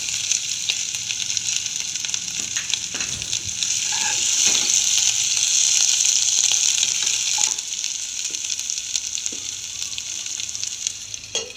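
Crushed ginger and garlic sizzle steadily in melted fat in a pan for a prawn mandi, a dense continuous frying hiss that swells louder midway, with a few faint clicks and stirs and no talking.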